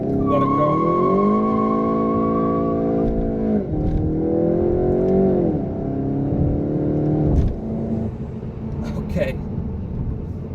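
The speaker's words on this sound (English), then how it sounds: "now launch control is active. Again, left foot on the brake, foot hard on the brake, let it go" A 2019 VW Golf GTI Rabbit pulls away under launch control with wheel spin, its engine roaring loud and close as revs rise and fall through gear changes, with possible tire squeal and someone talking over it.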